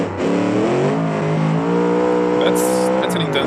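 An Australian muscle race car in the BeamNG driving game revs hard, a loud, sustained engine roar that climbs and shifts pitch through the gears, with faint tire noise near the end.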